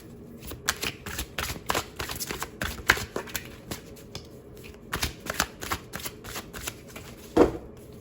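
A tarot deck being shuffled in quick bursts of riffling card flicks and slaps, close and fairly crisp, with brief pauses between runs and one sharper snap near the end; no talking.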